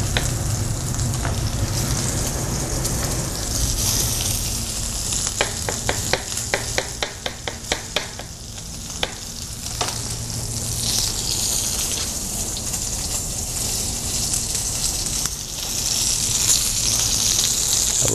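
Meat sizzles and fries in a hot pan, a loud continuous crackle and hiss with a brief run of sharp spattering pops partway through, close and without speech.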